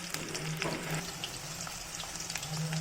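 Onions fry in oil for chicken kosa, a steady close sizzle with occasional stirring scrapes, constant and fairly quiet, with no voices.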